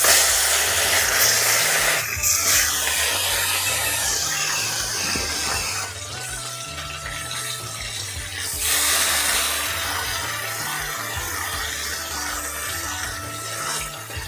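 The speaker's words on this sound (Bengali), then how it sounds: "তেলটা গরম হয়ে গেছে, এবারে মাছগুলো আমি ভেজে নিচ্ছি।" River fish sizzle in hot mustard oil in a pan, a loud, continuous hissing crackle close by that dips briefly and then carries on steadily.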